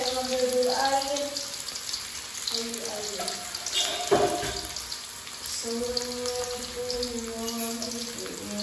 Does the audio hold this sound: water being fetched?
yes